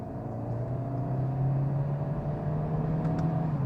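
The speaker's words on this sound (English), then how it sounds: "pop it into third and foot down" A Hyundai i30 Fastback accelerates hard in third gear, its engine giving a steady, rising drone with a low rumble and road noise that holds at an even, fairly loud level throughout, with no one speaking.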